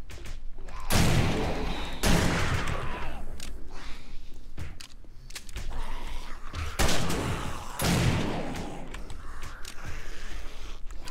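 Several heavy gunshots are fired at a military zombie in the survival game 7 Days to Die, coming as spaced, booming bursts with thuddy reports and rumbling tails.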